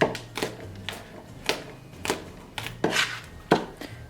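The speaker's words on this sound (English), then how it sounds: "I'm going to take my cranberries and I am going to just kind of rough chop all these" Knife rough-chopping fresh cranberries on a cutting board, a run of sharp irregular chops spaced through the clip, close and fairly quiet with no talking.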